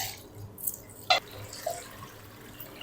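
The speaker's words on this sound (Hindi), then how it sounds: "इस तरीके आप इसके ऊपर ठंडा पानी डाल दें।" Cold water is poured over boiled macaroni in a strainer, giving soft, sparse drips and splashes against a quiet kitchen background.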